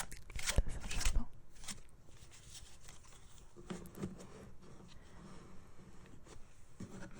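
A tarot deck gets shuffled by hand, with a burst of riffling card flicks near the start and then softer, sparse taps and slides of the cards close by in a quiet room.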